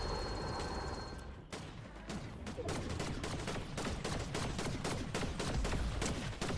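Gunfire in Fortnite: rapid, dense streams of shots crackling steadily for several seconds, loud and close with a busy rumbling game backdrop.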